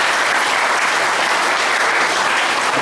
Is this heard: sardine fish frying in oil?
no